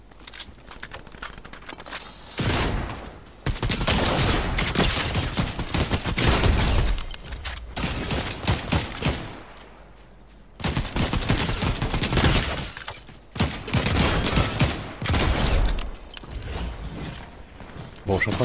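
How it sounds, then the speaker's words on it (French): Bursts of gunfire from a Fortnite Chapter 4 Season 2 match, with dense rattling volleys that start and stop in several loud clusters over a steady game background. "ça tire là-bas, on va aller voir aussi"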